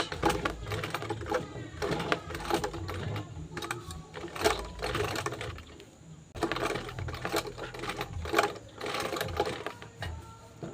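A sewing machine stitches a bag in quick bursts of rapid clatter, pausing briefly between runs as it back stitches, close and clear with no talk.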